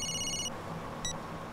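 A telephone rings with a bright electronic trill, one burst and then a short second blip, heard over a soft room hum in a Hindi film scene.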